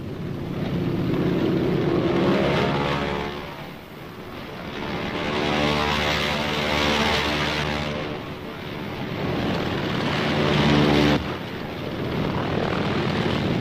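Navy carrier propeller planes flying a strike mission over Korea, a steady loud engine drone that swells and recedes as aircraft pass overhead, continuous with no voices.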